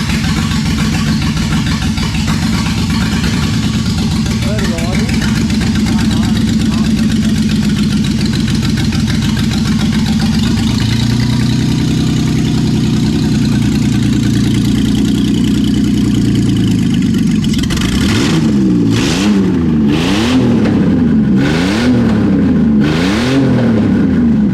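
An Ecotec engine swapped into a VY Commodore cranks and catches, running steadily at a loud, close idle before a series of sharp revs rises and falls near the end.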